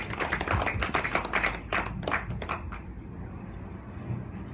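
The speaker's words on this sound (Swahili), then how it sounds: "Makofi kwake." An audience applauds a speaker at a DJ event, a burst of dense clapping for a few seconds that then fades to quiet room tone.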